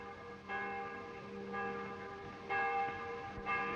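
Church bells ring out in a village, several pitched tolls struck at roughly one-second intervals, each leaving a ringing, sustained hum that overlaps the next, heard from a moderate distance.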